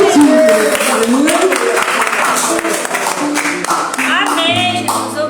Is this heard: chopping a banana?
no